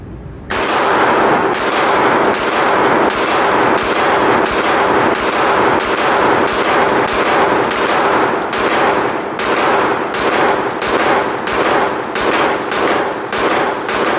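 A Polymer80 Glock-pattern pistol fitted with a stabilizing brace and a tall optic fires a long, evenly spaced string of loud, sharp shots, well over a dozen reports in steady rhythm with brief ringing tails and no voices.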